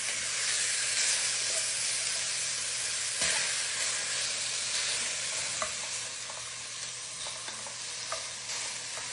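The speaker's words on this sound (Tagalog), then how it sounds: "Init na yung pot, lalagay ko na itong giniling na meat. Haluhaluin ko lang siya hanggang mawala yung water niya." Ground meat sizzles steadily as it fries in a hot pot, with scraping stirs and occasional clacks of the spoon running through the whole stretch; no voices.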